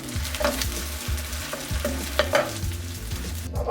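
Shrimp-filled spring rolls pan-fry over medium heat with a steady close sizzle, irregular stirring and scraping sounds, and a low hum underneath, with no voices.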